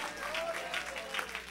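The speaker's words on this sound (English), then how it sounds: "Can you clap your hand and give God a praise here?" A church congregation claps hands in praise during a sermon, a soft, somewhat distant ripple of clapping with gentle rhythmic swells.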